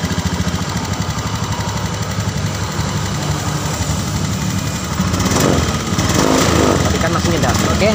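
A Honda Beat FI scooter with an idle-stop system and a stalling problem idles with a rough, rapid engine chatter that grows slightly louder toward the end.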